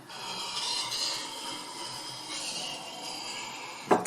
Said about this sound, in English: You can hear the edge polishing there nicely.